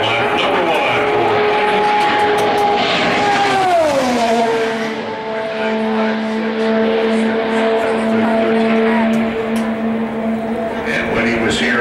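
An Indy car at Indianapolis on a qualifying lap roars past loudly, its high engine note dropping sharply in pitch as it passes, then a steady drone fading away while a commentator talks over it.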